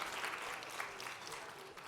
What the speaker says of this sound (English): Can we give another round of applause to Drs. Miles and Bailey for that thought-provoking conversation?